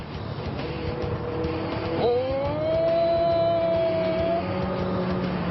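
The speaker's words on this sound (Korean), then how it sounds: "가속을 한번 해보겠습니다." An SM6 sedan with a turbo engine accelerates from inside the cabin, its engine note rising smoothly in pitch from about two seconds onward over steady road and cabin noise.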